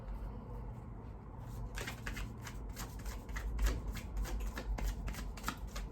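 A tarot card deck being shuffled close up, a run of crisp riffling card flutters that starts after a quiet moment and keeps going in quick bursts.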